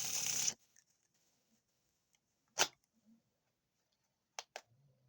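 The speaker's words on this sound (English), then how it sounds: "my take on the infamous Pharaoh Shuffle" Playing cards riffle and snap during a Pharaoh Shuffle cardistry flourish, a brief burst of shuffling followed by a few sharp isolated clicks and snaps, close and clear in an otherwise quiet room.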